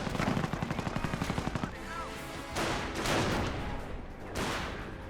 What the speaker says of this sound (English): That must be the AT-gun shot.